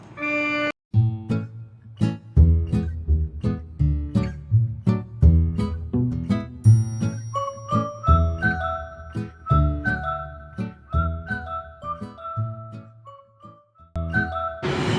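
A chiming melody plays on bell-like tones from the musical back side of the Otis Redding Monument in Georgia, one clear ringing note after another at a steady pace, with no voices.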